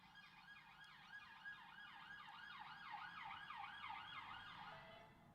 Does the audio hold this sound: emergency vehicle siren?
yes